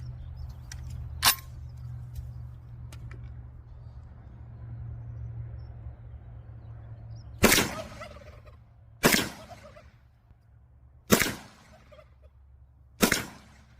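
Four loud, sharp rifle shots from an SKS or AKM firing Palmetto State Armory 7.62x39 ammunition, spaced a couple of seconds apart outdoors, each ringing out briefly over a low steady hum, following a fainter earlier click.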